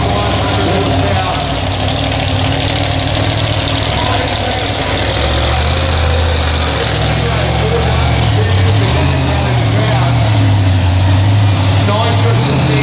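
Tassie Devil, a fuel-injected supercharged monster truck of about 1,500 horsepower, runs close and loud with a steady heavy rumble that rises slightly in pitch midway, continuous throughout with a voice talking over it.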